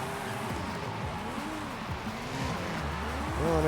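Car with a street exhaust in Forza Horizon 5, engine revving up and down in wavering sweeps with tyre noise, steady and moderately close, rising louder at the end.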